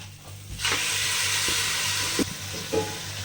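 Washed mutton tipped into a hot pan for mutton curry sets off a loud, steady sizzle after about half a second and keeps crackling throughout, with a few light clanks of the pan.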